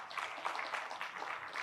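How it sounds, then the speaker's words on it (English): Brief burst of audience applause at a Formula One photography talk as the photographer is welcomed on stage, a steady patter of many hands clapping at moderate distance. "A warm applause."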